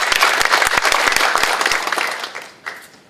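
Audience applause at a social-value legislation forum, a dense burst of many hands clapping loudly that thins out and fades over the last second.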